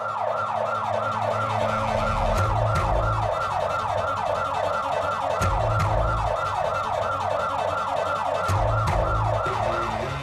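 A fire station alarm sounds continuously, a loud, rapidly warbling siren-like tone that repeats evenly over about ten seconds with a few sharp clicks and low thumps beneath it.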